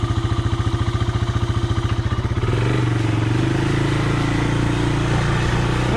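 A 1985 Honda Big Red three-wheeler engine chugs in rapid, uneven popping pulses for about two seconds, then revs up into a smoother, louder continuous drone, close and with no talking.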